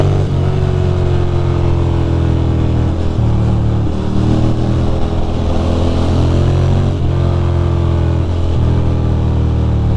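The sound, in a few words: Ducati Monster motorcycle riding through New York City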